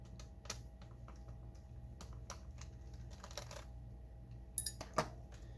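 Screws being removed from a Dell Inspiron 1501 laptop during a repair: faint, quiet clicks and ticks scattered across a low hum, ending with a few small metallic clinks.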